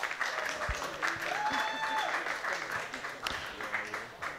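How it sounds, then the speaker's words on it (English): A crowd applauds a football player from Queen Elizabeth XI as he is substituted off after scoring the third goal, with steady, moderately loud clapping filling the scene. Someone speaks over the applause. "Gets a nice round of applause."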